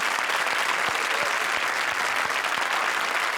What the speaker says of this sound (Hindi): जोरदार तालियां हमारी दोनों जोड़ियों के लिए।